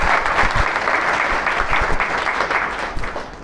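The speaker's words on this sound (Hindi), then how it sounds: "तालियां भाई।" A seminar audience at a motivational event in Kathara, Bokaro, claps together: a steady, fairly loud round of applause with a few sharper individual claps poking through.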